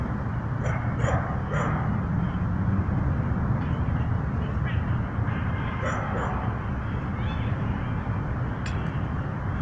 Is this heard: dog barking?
yes